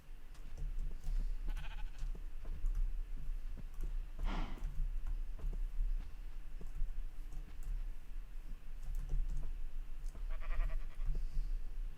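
Bleating from Minecraft sheep, a few short nasal calls spread over twelve seconds against a steady low game ambience with scattered clicks; no one speaks.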